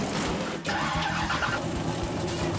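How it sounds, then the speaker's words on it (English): Drag racing cars fire up their engines at a windy Texas strip, a dense, loud roar that holds steadily throughout with a brief dip early on. "All right, guys, fire those cars up."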